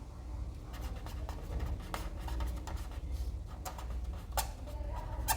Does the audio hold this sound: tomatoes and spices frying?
no